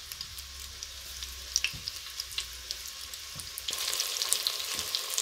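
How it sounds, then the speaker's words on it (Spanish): Meatballs fry in a little hot oil in a non-stick pot, giving a steady close sizzle with small pops and crackles that thicken toward the end, no voices. "Ya tenemos el aceite caliente y vamos a ir poniendo las albóndigas. Las iremos dorando"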